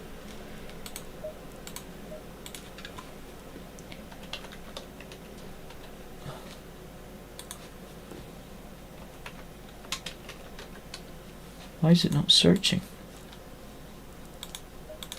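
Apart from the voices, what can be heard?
typing on a computer keyboard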